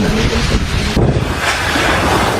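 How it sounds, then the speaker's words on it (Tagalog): Strong Super Typhoon Uwan wind and rain batter Virac, Catanduanes, under Signal Number 5. The result is a loud, dense, unbroken roar of gusting wind buffeting the microphone, with no speech. "Ganyan kalakas na hangin at ulan ang gumising sa mga residente ng Verac, Catanduanes nitong linggo."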